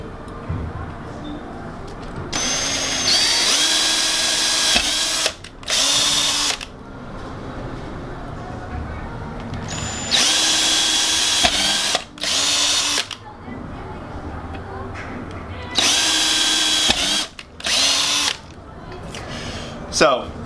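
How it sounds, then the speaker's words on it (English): A power drill boring holes through a scooter deck in repeated loud bursts of high whine, each a second or two long, separated by quieter gaps where a person talks. "Then you're just going to drill on all of the plus marks."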